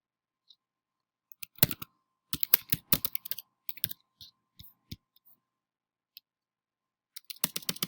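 Password being typed on a computer keyboard: bursts of sharp, close key clicks in irregular rhythm, with a lone tap early, a dense run in the middle, scattered presses and a final quick flurry, no talking.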